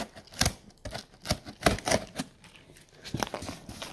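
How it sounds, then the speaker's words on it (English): A shipping box being cut open by hand, with a run of close, crisp cardboard slicing and tearing bursts in quick uneven succession, moderately quiet. "it's easier for me to hold the box while cutting"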